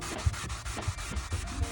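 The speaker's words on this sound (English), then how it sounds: "While I'm sanding, you should be able to see the line disappear." Rhythmic rubbing strokes of wet sanding by hand on car paint outdoors, a soft scratchy back-and-forth repeating steadily, close by and fairly quiet.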